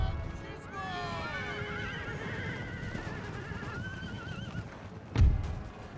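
Horses neigh and whinny in a battle in Napoleon: Total War, several overlapping calls over a steady background din, followed near the end by a sharp loud impact thump.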